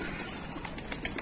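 Pigeons gather to peck at grain scattered in a circle on the ground, giving faint soft coos and a few brief wing flutters against a low background hiss.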